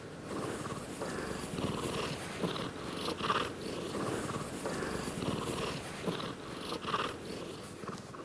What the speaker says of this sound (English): The first is the non-solicitation purr.